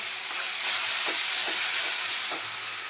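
A little water poured into spice paste frying in oil for green chicken, giving a steady loud sizzle and hiss with soft stirring scrapes, close and continuous for a few seconds.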